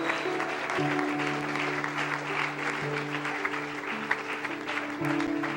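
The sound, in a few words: congregation applause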